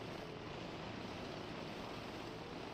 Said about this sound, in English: look at how beautiful these planes are